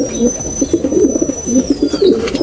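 Breeder racing pigeons coo in soft, repeated low throaty phrases close by, with a faint high tone running steadily above them.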